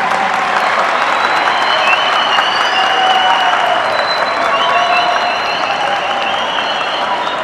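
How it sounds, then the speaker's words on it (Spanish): An audience at a youth and peace rally in Tumaco, Colombia, gives the indigenous guard a sustained round of applause, dense steady clapping with a few whistles over it, loud and close throughout. "Quiero que todos nos pongamos de pie y le demos un fuerte aplauso a nuestra guardia indígena"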